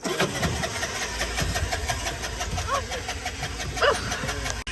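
A gas-powered tuk-tuk engine in Puglia, Italy, cranks and catches, then runs at a steady mid-pitched idle with a rhythmic mechanical pulse, fairly close and loud, with a few faint voices in the background.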